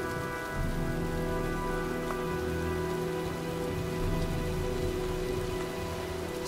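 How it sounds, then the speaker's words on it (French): Steady rain and a gathering storm in the video game Heavy Rain, a continuous close patter on surfaces alongside a low hum and faint tonal background, with no one speaking. "Je crois qu'un orage se prépare."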